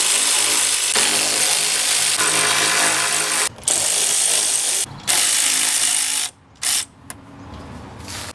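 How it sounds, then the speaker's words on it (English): A handheld electric ratchet spins out bolts on the intake of a third-generation Mitsubishi Eclipse, whirring loudly and nearly nonstop in long bursts, then stopping and restarting in short stuttering runs near the end. "an electrical ratchet"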